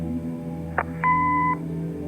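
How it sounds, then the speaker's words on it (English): An answering machine in the Katy Rain video game gives a short click followed by a clear, steady electronic beep of about half a second, over a low background hum. "Leave a message after the beep."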